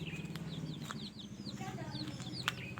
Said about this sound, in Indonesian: Ada ayam di kandang ayam, ada lagi.